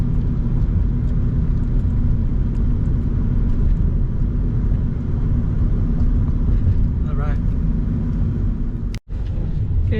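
A car driving through Dearborn, Michigan gives a continuous low rumble of engine and road noise heard from inside the cabin, steady throughout with a brief dropout near the end.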